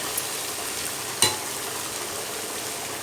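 Goat intestine roasts and is stirred in a heavy-bottomed pan, giving a steady crackling sizzle with one sharp scrape or clank partway through. No one speaks.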